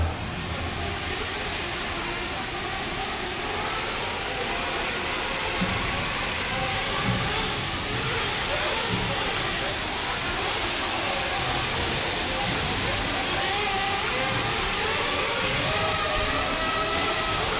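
A pack of 1/8 scale Sportsman nitro RC truggies races around a track during a main event, their small engines making a continuous, dense, high buzzing drone that holds steady for the whole stretch with no talk.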